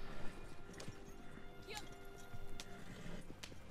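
Horse hooves clopping in the Red Dead Redemption 2 video game, a steady run of faint hoofbeats under game ambience with occasional sharp knocks, and a voice talking over it at times.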